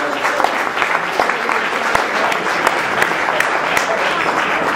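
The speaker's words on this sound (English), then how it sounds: "Let's give him a round of applause." An audience at a New Jersey Assembly District 17 campaign event gives a steady round of applause, many hands clapping densely and loudly with scattered sharper claps, and faint crowd murmur underneath.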